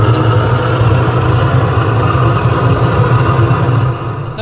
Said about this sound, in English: I'm sorry if you hear a jet burner in the background.